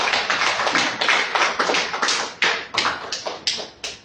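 Church congregation applauds during a Bible study service, a burst of moderately loud clapping with uneven rhythm that thins into a few separate claps toward the end.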